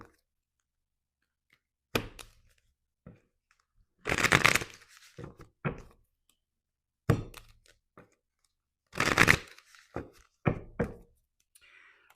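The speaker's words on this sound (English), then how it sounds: "the card that fell out right now as I was shuffling is the Nine of Swords" A deck of tarot cards is shuffled in several separate riffling bursts, each followed by soft taps and knocks as the cards are squared. The sounds are close and crisp, with quiet pauses between them.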